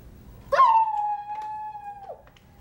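A person imitates a wolf howl, one long sustained tone that swoops up at the start and drops away at the end, close and fairly loud in a quiet room.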